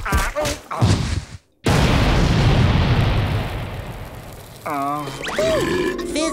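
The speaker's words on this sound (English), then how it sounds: "A burp explosion in every can!" A cartoon explosion goes off from a can of Fizz Bomb Cola in SpongeBob's Bikini Bottom: a sudden loud boom that rolls on as a long roaring rumble, with cartoon voices shouting before and after.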